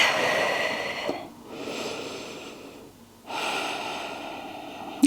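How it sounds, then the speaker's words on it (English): A long, deep breath after a prenatal Pilates and barre workout: a steady, close airy inhale and exhale with a short pause between, then another drawn-out breath, with no talk. "Big deep breath"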